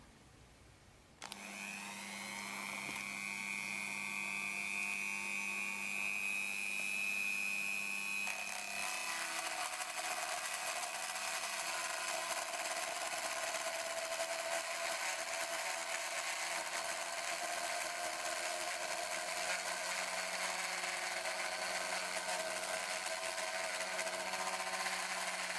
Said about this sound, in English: I'm going to cut it on my Dremel.